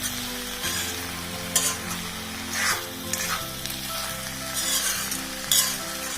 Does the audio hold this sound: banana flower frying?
yes